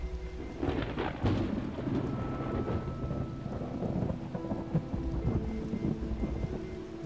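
A rainstorm in the 2014 puzzle game The Talos Principle on PS4 brings dense falling rain. Low thunder rumbles and rolls through it, loud and close at the start and again partway through, over a faint musical hum.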